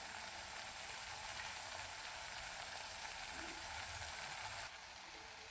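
Gravy masala fries in a pan with a steady, even hiss and crackle, close and constant, easing slightly near the end.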